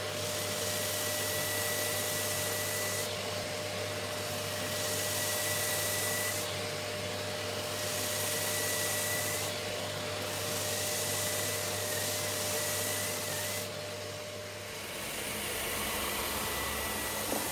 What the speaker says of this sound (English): I'm using the sander to clean up the edges, again a bit of a delicacy test for this Diros RS